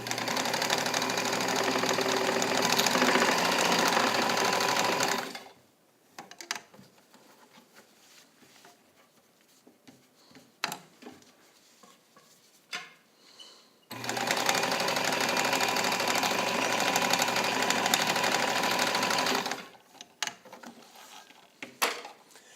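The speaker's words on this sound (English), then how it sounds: "So I'm going to go through this so that you guys can see the kind of stitching that a machine like this is willing to do for you." Restored all-metal Necchi BU Nova sewing machine stitching fabric: two long runs of steady, rapid mechanical clatter, separated by a quieter stretch of clicks and handling sounds, with a brief start again at the end.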